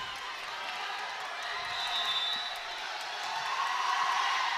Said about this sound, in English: Should hear the crowd get involved right here